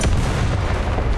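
A tank cannon in War Thunder fires a high-explosive shell, a single heavy booming blast close up that rolls into a dense low rumble.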